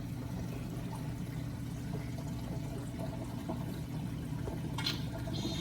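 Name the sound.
water pouring down into sump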